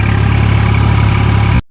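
Swaraj 855 tractor engine running close by, a loud, steady low throb with even pulsing, no voices, cutting off abruptly at the end.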